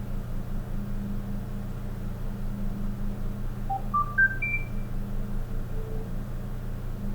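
A short rising sequence of electronic beeps from a Nokia 2700 Classic mobile phone, four or five tones climbing in pitch, sounds over a steady low hum.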